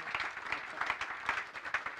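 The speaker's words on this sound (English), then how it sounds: "if we could have a round of applause for our great speakers" An audience at a startup panel event applauds the speakers, a sparse, moderately faint patter of claps from a small crowd with individual hand claps standing out.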